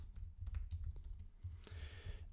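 Typing on a computer keyboard into a search field, with quick, quiet clustered key taps in irregular bursts, close by and faint, with no voices.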